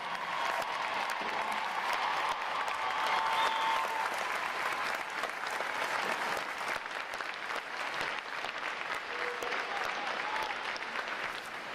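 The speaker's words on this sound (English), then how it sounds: "we can give you a round of applause" Veterans stand and a crowd at a Navy boot camp graduation breaks into sustained applause, a dense, continuous roar of clapping with scattered cheers heard from a distance.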